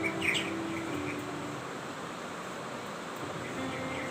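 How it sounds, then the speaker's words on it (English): A blackbird sings in a wildlife sanctuary, its bright chirps strongest in the first half second, then softer and intermittent over steady broadband background hiss. "There's the blackbird."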